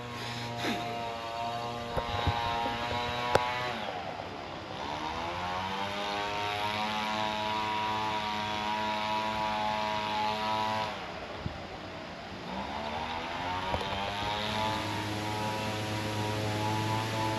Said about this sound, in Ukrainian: На фоні в нас фігачить бензопила.